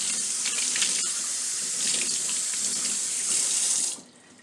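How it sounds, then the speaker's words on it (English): Cool water runs steadily from a sink tap over a synthetic wig being rinsed of shampoo, a continuous close hiss that stops abruptly near the end. "I'm just going to run some cool water through them and squeeze a little bit just to get the shampoo out."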